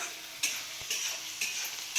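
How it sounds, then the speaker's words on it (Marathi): Cumin and mustard seeds sizzle in hot oil for a tempering, a bright crackling hiss that swells in short bursts as the pan is stirred, close up and with no talking. "आता तेलात जिरे, मोहरी, तेल."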